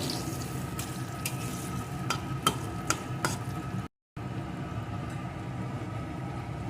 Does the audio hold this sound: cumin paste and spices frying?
yes